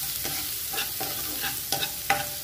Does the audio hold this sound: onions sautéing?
yes